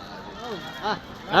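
Goats bleat at a crowded sheep and goat market in Kadiri: three short, nasal bleats close by, rising in loudness, with market background behind them.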